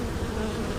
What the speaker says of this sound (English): Here's some live bees still over here.